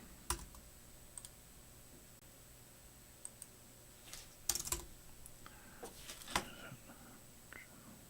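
A computer keyboard being typed on, heard as a handful of sparse, sharp clicks and keystrokes scattered over several seconds, quiet and close, with a few small clusters near the end.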